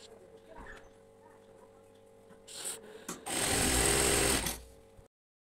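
A sewing machine stitching a cotton housecoat runs in a short loud burst near the end, preceded by quieter handling noises and a couple of brief whirs.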